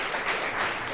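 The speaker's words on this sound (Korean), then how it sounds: "박수로 한번 환영하겠습니다" A short burst of steady applause from a church congregation at an early-morning prayer service, welcoming a pastor, dense and even for about a second.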